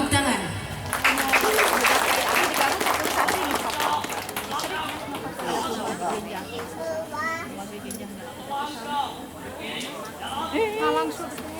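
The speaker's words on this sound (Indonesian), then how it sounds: "Tepuk tangan." Applause from a crowd at a junior high school marching drill competition, loud clapping at the start that gives way to children's chatter and shouts.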